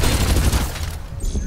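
Dense rapid gunfire from the Farlight 84 battle game, loud and continuous bursts that thin out briefly near the end before picking up again.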